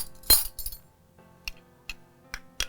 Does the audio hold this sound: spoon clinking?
yes